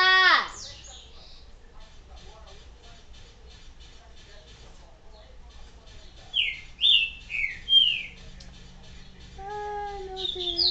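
Songbirds in Resident Evil 4 chirp in short whistled bursts, with a bright call at the start and a cluster of rising tweets near the end over a low steady background hum.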